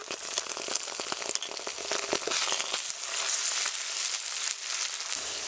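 Cumin, ginger-garlic and chilli pastes sizzling in a pan with fried tomato for a Bengali fish curry, a steady bright crackle and hiss heard up close with no talking.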